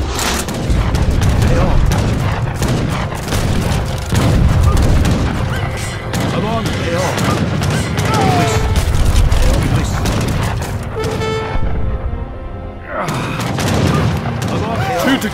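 Bombard cannon fire and battle in the video game Age of Empires III: continuous loud booms and volleys of gunfire overlap densely, with voices in the mix and a brief lull near the end.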